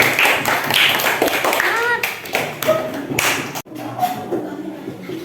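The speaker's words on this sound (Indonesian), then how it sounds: "tepuk tangan untuk temannya" Schoolchildren in a classroom clap for a classmate after an answer, a burst of sharp, scattered claps heard over a teacher's voice that keeps talking.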